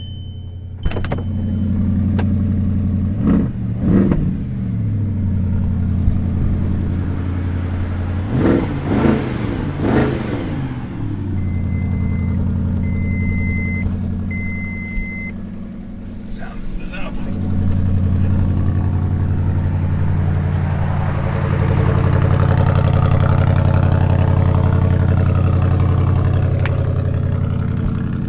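A car engine cranks and catches, then revs up and down several times before settling into a steady low idle, close by; a brief remark is spoken.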